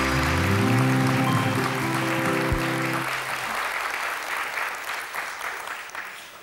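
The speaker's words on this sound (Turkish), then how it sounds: "Onları burada gerçekten bir alkışlayabilir miyiz?" A studio audience applauds on a Turkish television show, loud dense clapping with music underneath for the first three seconds, then the clapping continues alone and slowly fades.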